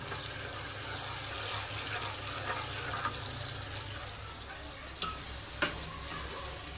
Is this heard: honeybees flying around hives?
no